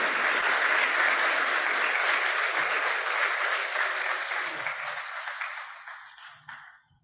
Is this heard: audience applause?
yes